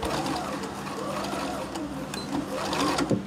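A sewing machine runs continuously, stitching a fabric Christmas tree pouch with a close, steady mechanical whir and a few small knocks and shifts near the end.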